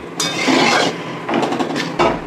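A metal lid is set and shifted onto a cooking pot of fish curry with papaya simmering in its broth, giving loud scraping, rasping clatters in several close bursts with no talking.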